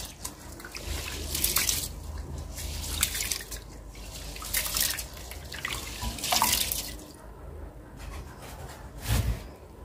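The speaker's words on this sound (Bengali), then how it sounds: "তো এই যে চালটা কিন্তু ধুয়ে ফেলছি" Rice for khichuri is washed in water, giving faint, close sloshing, swishing and dripping sounds in irregular bursts, like water being stirred and poured in a bowl or sink.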